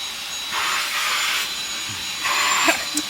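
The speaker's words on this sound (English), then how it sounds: "Dave with the Hoover" A Hoover vacuum cleaner sucking air out, a steady high whooshing whine that swells in short surges, close and moderately loud, with no talking.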